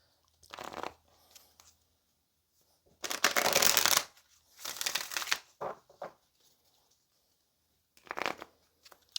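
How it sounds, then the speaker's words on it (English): Several bursts of tarot cards being shuffled, crisp riffling rustles in separate bouts with short quiet gaps between, close up and fairly loud. "Let's go ahead and get a few more shuffles."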